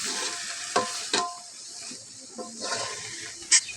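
Salted hilsa bharta and onions frying in a pan give a steady soft sizzle, with a few sharp scrapes and clacks as they are stirred, fairly close and moderately loud.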